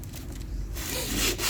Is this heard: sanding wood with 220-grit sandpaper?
yes